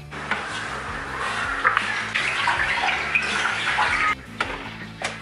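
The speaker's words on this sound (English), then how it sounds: "give this a big douse down in truck wash from Beeline Auto, and let it just sit for a little bit and then hit it with the gurney" A pressure washer blasts truck wash off a vehicle fuel tank: a close, steady hissing spray of water, briefly cut off near the end before resuming.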